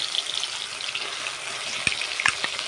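Ginger, garlic and onion paste frying in hot oil in a wok, a steady close hiss with a couple of sharp crackles near the end.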